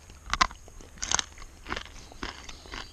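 Crunching bites into a whole small crawfish with a hard shell, eaten outdoors in the jungle: five or six separate crisp crunches spaced about half a second apart, close and fairly quiet, with no talking.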